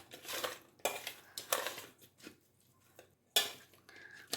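A spoon stirs ginger garlic paste into pieces of raw fish for frying, with scattered scrapes and light clinks against the bowl, close and quiet, broken by short pauses.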